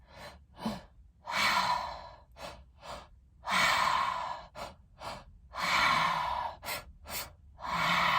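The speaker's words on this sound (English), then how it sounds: "Breathing in." Deep breaths are drawn in and released in a slow, steady rhythm during a guided breathwork practice, with long airy inhales alternating with shorter breaths, close and clear.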